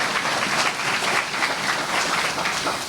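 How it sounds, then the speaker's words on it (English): Audience applause for students and educators at a school district press conference, a dense, sustained round of clapping with no talk over it. "let's give a round of applause to all of our students that you see here and educators joining us today"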